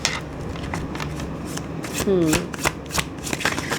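Cards being shuffled in quick riffling bursts and snaps, close up, while a person talks briefly in the middle.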